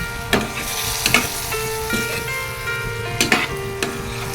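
Chicken and liver being stirred in a hot pan, a steady sizzle with a few sharp scraping knocks of the spoon against the pan, close and fairly loud, no voices.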